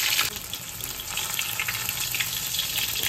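Cumin and fenugreek seeds frying in oil give a dense, steady sizzle close up, with no voices.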